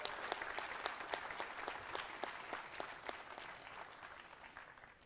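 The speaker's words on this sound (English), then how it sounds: "And his opponent from Germany, can we have a nice round of applause for Mr. Ralf Souquet?" Spectators at the World 10-Ball pool championship in a Rio Hotel venue give a short, thin round of applause, with individual claps distinct and fairly quiet.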